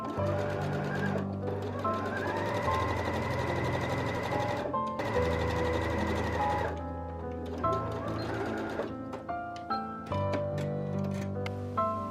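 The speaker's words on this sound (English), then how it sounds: "we are going to stitch those down, starting at the very narrow edge" A sewing machine runs steadily, its needle stitching fabric ties in a rapid mechanical whir with brief pauses and restarts.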